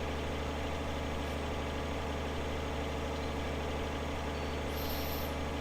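A cultivator unfolds and lowers itself behind a tractor in Farming Simulator 2013, heard as a constant loud engine drone with a hydraulic whine, and a brief hiss near the end.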